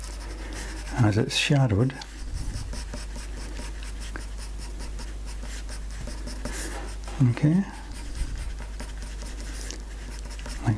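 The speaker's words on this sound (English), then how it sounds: "a bit of weight on your pencil here" A graphite pencil scratches across paper in quick short strokes while sketching a French Bulldog, light steady scribbling close up with someone talking over it.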